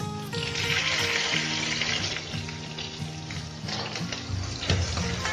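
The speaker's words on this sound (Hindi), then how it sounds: "अब हम विम्मी ने सब्जी कट कर दिया" Spices tempering in hot oil in a pan on an induction cooker, a steady close sizzle and crackle with faint stirring and clinks, no one speaking.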